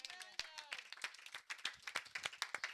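A church congregation at a prayer day clapping and applauding, a fast, steady run of close hand claps with rhythmic bursts, mingled with voices.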